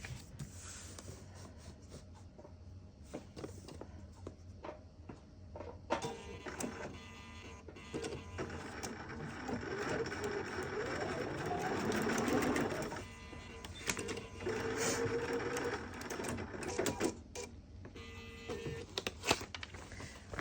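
A sewing machine stitches across quilt fabric for a candy cane quilt block, a steady close mechanical whir with rapid needle ticking that swells mid-run and eases off, with scattered clicks and handling noises.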